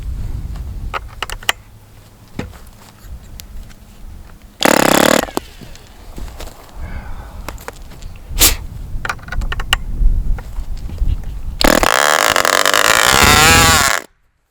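Small OS 29 model airplane engine firing in short high-pitched bursts, sputtering and cutting out between runs, with clicks and handling noises in between and a longer loud run near the end.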